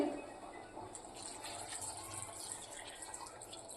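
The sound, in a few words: pouring water into pav bhaji vegetables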